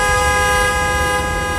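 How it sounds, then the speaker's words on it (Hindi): A car horn blares in one long, loud, steady tone, held without a break and heard alone. "अगर कार के बाहर खड़े थे तो फिर ये हॉर्न कैसे बजा।"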